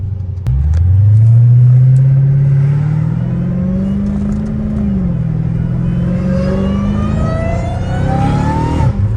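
A Dodge Hellcat Redeye engine revs hard close by, a deep rising roar that climbs and holds in a sustained throaty drone, dipping once before surging again near the end, with no talk over it.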